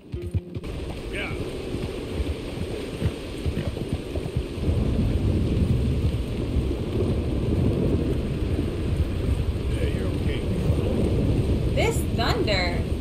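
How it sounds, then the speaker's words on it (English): Thunder rumbles through a Red Dead Redemption 2 game world as a long, low, steady roar with rain-like wash, loud and continuous, while voices talk faintly over it. "Thunder."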